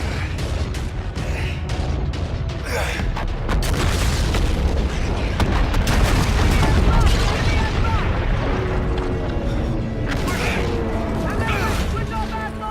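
Booming explosions and bursts of gunfire from Call of Duty Infinite Warfare fill the space in a dense, continuous barrage, loud and close, with shouted voices mixed in.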